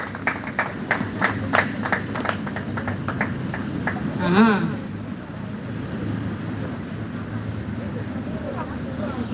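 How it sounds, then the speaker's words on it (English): Audience at an art competition and exhibition event claps as the dean walks forward: a sparse run of distinct claps at first, then a warbling tone passes midway over a steady room hum and faint background voices. "Clap while he comes."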